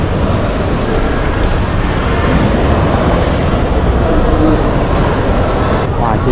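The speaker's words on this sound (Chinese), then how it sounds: "这里就是 Gare SNCF 法国国铁的车站" Dense, steady rumble and hiss fill a French SNCF railway station with trains, a continuous loud wash of rail and platform noise with voices mixed in throughout.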